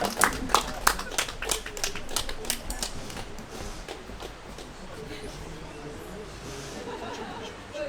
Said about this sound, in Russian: Давайте ему поаплодируем.